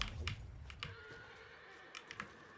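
A boss in the video game Black Myth: Wukong lets out horse-like whinnying cries, several short sharp bursts spread across a couple of seconds, fairly faint against the game's low background rumble.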